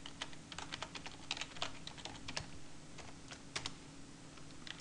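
Fingers type a password on a computer keyboard in a Linux terminal, a close, rapid, irregular run of crisp keystrokes with no talking.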